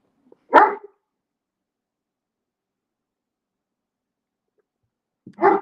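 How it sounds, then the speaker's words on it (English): Dog Hildy gives two short, loud barks, one near the start and another after several seconds of silence, close by with nothing else heard. "She's just looking at me barking."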